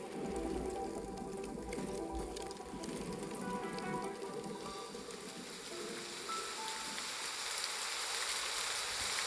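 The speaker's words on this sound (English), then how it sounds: "A few days later, it starts to rain in the desert." Rain falls steadily in a desert, a continuous hiss of drops spattering the ground with a soft low rumble beneath, holding an even, moderately loud level throughout with no voices.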